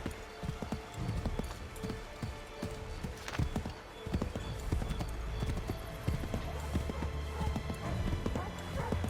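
Horse hooves clip-clop steadily in the video game Assassin's Creed 3, close and clear over a busy outdoor ambience, with a voice speaking faintly underneath.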